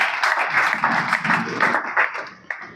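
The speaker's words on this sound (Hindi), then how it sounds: "तुम्हारी तालियों से पता लग जाता भूख लग रही है" Audience at a motivational talk clapping together in a quick, even rhythm, a dense patter of many hands that fades out near the end with a final clap.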